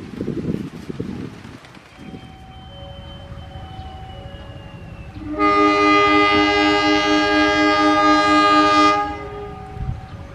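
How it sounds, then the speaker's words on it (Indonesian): The Asrayu passenger train departs Cibatu station with a loud, sustained multi-tone horn blast lasting several seconds, preceded by fainter whistle tones and station ambience, close to the listener. "Kereta api Asrayu diberangkatkan dari stasiun Cibatu."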